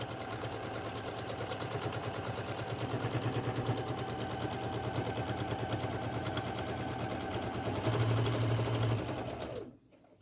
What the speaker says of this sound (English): Machine and top stitch on the black fabric.